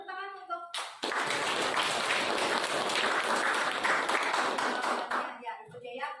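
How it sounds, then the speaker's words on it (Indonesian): A classroom group breaks into brisk, full applause after a brief voice, clapping steadily for several seconds before thinning out as talking resumes. "Tepuk tangan untuk"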